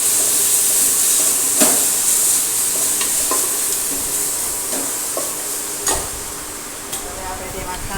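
Bitter gourd sizzles in a pan as a dry-spiced garlic chutney is added and stirred in, giving a close, continuous hiss broken by a few scraping stirs and clinks.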